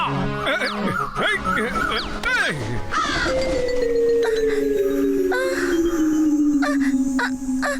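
A cartoon crow caws loudly in a rapid burst of harsh calls while a cartoon butterfly cries, followed by a long, sliding wail that falls slowly in pitch, all over busy animated background sound.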